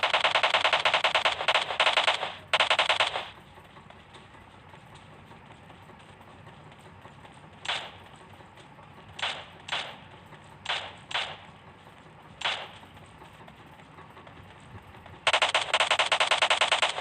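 S12K shotgun fire in a PUBG match comes as sharp blasts: a rapid volley at the start, a scattered run of single shots in the middle, and another dense burst at the end, with quiet game ambience between and no talking.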